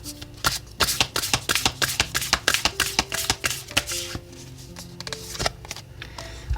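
Oracle cards being shuffled by hand in a quiet room, a steady run of crisp riffling snaps and slaps repeating in quick bursts, close and clear with no talking.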